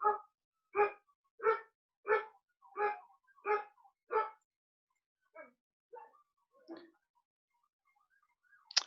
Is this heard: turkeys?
no